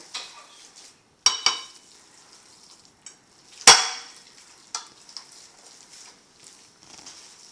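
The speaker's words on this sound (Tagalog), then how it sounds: "And just continue to mix it together." Embutido mixture of ground meat and red hotdog being stirred and mixed by hand in a bowl, with soft squelching and a few sharp clinks and knocks, close and quiet, with no talking.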